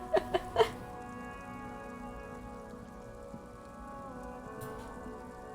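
Soft steady rain pattering in Disco Elysium, with a traffic jam setting, continuing evenly after a few brief tonal blips at the start, with no talk over it.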